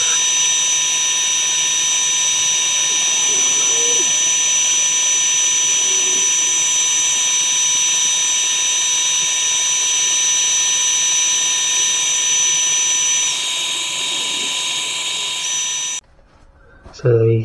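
Steady high-pitched whine of a power sander sanding a cherry wood bowl, running continuously, loud and close, cutting out abruptly near the end.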